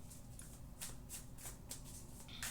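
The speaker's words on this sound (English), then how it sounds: "I'm shuffling here." Tarot cards are shuffled by hand close up, a quiet run of soft riffling bursts in quick, uneven succession with no talking.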